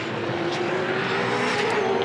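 V8 Supercar racing engines drone loudly and steadily as several cars pass close by at Sandown Raceway in 2011, the pitch rising and holding through the whole stretch.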